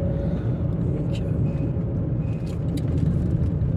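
Car engine droning steadily from inside the cabin while taking a sharp left bend on a country road, a low continuous rumble with someone speaking over it.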